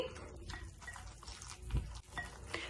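Water trickles little by little into dough being mixed for jaggery kommulu, with soft wet splashing and dribbling that rises and falls over a few seconds, close by and alone.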